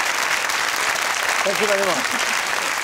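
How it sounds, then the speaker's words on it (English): Studio audience on a Scandinavian talk show applauding steadily, a dense, even wash of clapping throughout, while someone speaks briefly over it. "now you will get an applause?"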